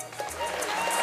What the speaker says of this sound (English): I think all the cadets have the energy to applaud.